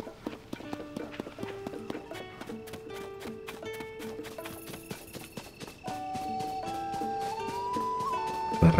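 A horse in The Legend of Zelda: Tears of the Kingdom clip-clops in a steady rhythm of hoof strikes that quickens toward a gallop, over game music, ending in a louder burst.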